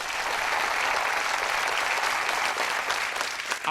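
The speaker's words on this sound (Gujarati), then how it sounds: "એવા નેતાઓ માટે એકવાર જોરદાર તાળીના ગડગડાટથી વધાવો" A Gujarati comedy show audience breaks into thunderous applause, a loud, sustained roar of many hands clapping together without pause.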